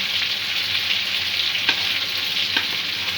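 Chana dal stirred in ghee over a medium gas flame sizzles steadily and up close, with a few soft scrapes of the spoon against the pan.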